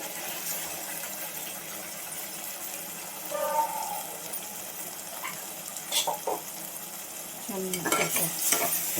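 Ground spinach paste frying in a pan for palak rice bath, a steady sizzle with scraping stir strokes and a few louder clatters near the end.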